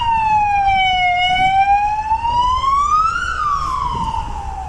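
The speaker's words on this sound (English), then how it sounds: "Oh, there's a 6th siren I've heard." A single emergency vehicle siren wails loudly and steadily, sweeping slowly down and then up in pitch over traffic rumble at an aviation expo in Brisbane.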